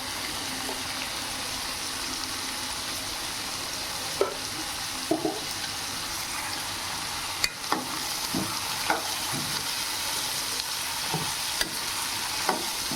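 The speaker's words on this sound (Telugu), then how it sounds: "వీటిని బాగా ఫ్రై చేసుకోవాలి." Black-eyed peas (alasandalu) fry in a pan with turmeric while being stirred, a steady crackling sizzle running throughout, broken by scattered clinks and scrapes of the spoon against the pan.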